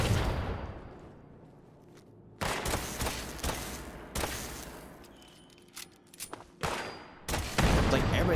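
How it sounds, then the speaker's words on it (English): Fallout 76 gunfire erupts in several loud bursts of rapid shots after a quiet lull, with scattered single pops between volleys, at close to moderate range. "Who the fuck is shooting at me?"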